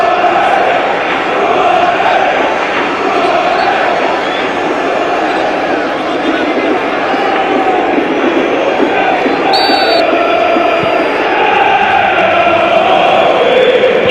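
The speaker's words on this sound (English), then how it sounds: "that's the cue for the home crowd to really get behind their team." Home crowd in a football stadium for a Portsmouth versus Ipswich Town Championship match roars and cheers in a dense, continuous wall of noise while a commentator talks over it.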